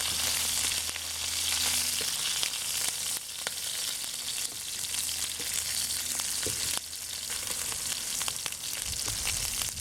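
Shrimp fry in a covered wok for a black bean sauce dish, a loud continuous sizzling hiss with occasional sharper pops and light clatters, no one speaking.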